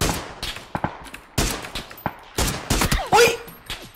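PUBG gunfire: sharp, loud rifle shots in irregular bursts and single cracks, some close and some farther off, echoing in quick succession with brief gaps between.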